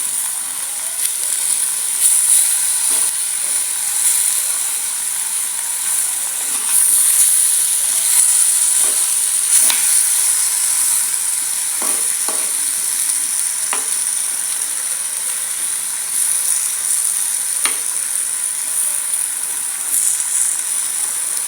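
Spices for a Sri Lankan mango curry, including curry powder and turmeric, sizzle and fry steadily in a pan while being stirred, a continuous close hiss with occasional soft scrapes and no talking.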